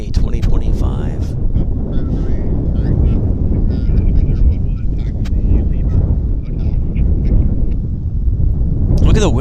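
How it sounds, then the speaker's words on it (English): Strong, gusty wind at Vancouver Airport buffets the microphone in a steady, loud roar that persists throughout, with brief rises in force near the start and end. "So windy here."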